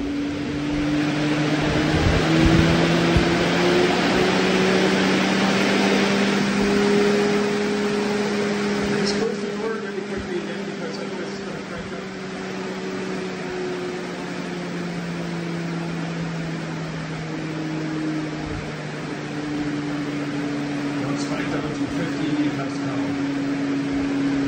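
A blower door test fan runs steadily inside a house, a loud close mechanical drone whose tone rises and then slowly settles as the fan cranks up, with no talking.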